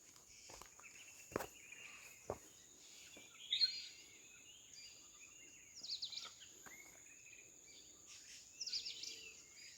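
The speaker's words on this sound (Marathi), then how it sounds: "फक्त पक्ष्यांचाच आवाज येतोय।" Birds call on a quiet hill fort trek at Harihar fort near Nashik, giving faint, scattered chirps that are heard now and then against near silence, along with a few soft footstep-like knocks.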